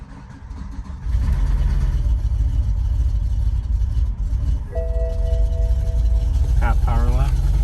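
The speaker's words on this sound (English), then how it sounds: "Let's see if it'll start." A slightly faulty BMW E60 M5 engine cranks and catches, then settles into a steady running drone. A brief electronic chime sounds near the end, and a voice cuts in over the engine at the very end.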